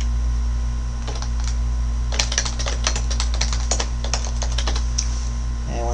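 Typing on a computer keyboard while entering a password, a quick run of close, crisp key clicks over a steady low hum, starting sparse and then coming in a dense burst before stopping.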